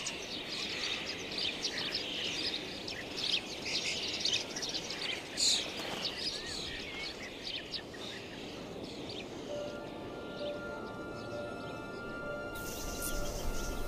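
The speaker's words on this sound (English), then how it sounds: "Sparrows and starlings have scraped out nests in the soft wall." Sparrows and starlings nesting in a soft earthen wall in Serbia chirp and tweet in busy, overlapping bursts at moderate distance, with a steady outdoor hiss behind them.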